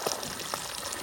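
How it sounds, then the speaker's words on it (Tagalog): Strong running water pouring at a fishpond on a farm in Davao, a steady rushing wash heard close and fairly loud throughout. "And running water pa rin siya."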